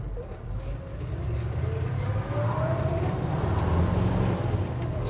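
A 1957 Chevy Cameo pickup with an overdrive transmission accelerating onto the interstate, heard from the cab as a continuous engine hum with a slowly rising tone over road noise.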